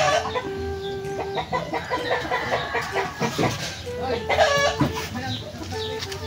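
Chickens and roosters at a small game farm cluck and crow continuously nearby, with overlapping calls forming a busy, loud chorus.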